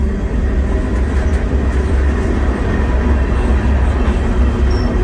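A slow North Dakota milk train rolling along its rails: a loud, steady rumble with faint rhythmic clatter and occasional metallic squeaks, close and continuous, with no talk.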